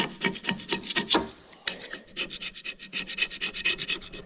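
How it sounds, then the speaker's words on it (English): Copper residue and fuzzy gasket material being scraped off a part during a Tu Flo 500 air compressor repair, a steady run of close, raspy rubbing strokes with a brief pause midway. "See if I can get all the residue copper junk off and the gasket fuzz"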